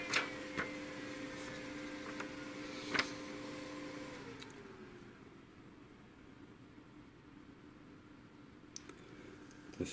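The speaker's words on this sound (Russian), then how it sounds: "принтер наш стал печатать" A Brother DCP-7030R multifunction laser printer runs a test page: a steady mechanical drone with clicks near the start and around three seconds, after which the motor pitch drops and the machine settles into a quieter whir with occasional ticks.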